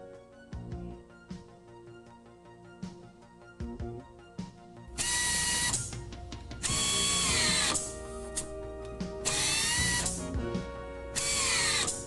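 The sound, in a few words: AIMCO US-LT power tool running during test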